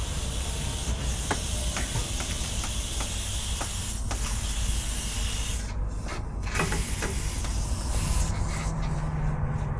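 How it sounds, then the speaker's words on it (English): A trailer airline leaks with a continuous broadband hiss, steady and fairly close, with a few faint clicks and knocks over it and no talk. "I hear an air leak."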